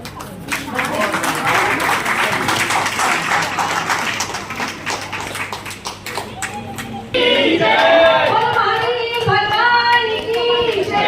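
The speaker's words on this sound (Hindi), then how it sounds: "बहुत सुंदर जोरदार तालियां छोटे से बालक के लिए" Audience clapping for a small child's performance at a Jain temple event, a steady wash of applause that swells louder and brighter partway through, with voices and cheering mixed in.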